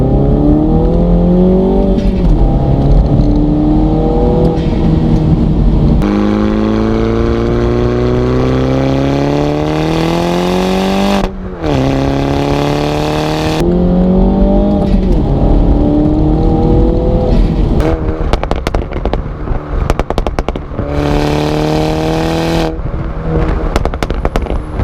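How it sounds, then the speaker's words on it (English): Motech Performance tuned Mini Cooper M240 hot hatch engine revving loudly and repeatedly, with rising and falling revs through gear changes and sharp crackling pops between pulls, close and with no talk. "that is the Motech Performance Mini Cooper M240"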